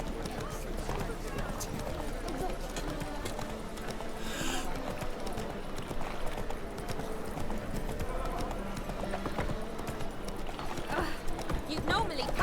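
A horse gallops in The Witcher video game, with continuous rhythmic hoofbeats clopping throughout and other game sounds and voices mixed in.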